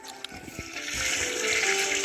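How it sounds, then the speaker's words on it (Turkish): A toilet flushes, a steady rushing swirl of water that builds and continues after a few faint clicks. "Sifonu çek."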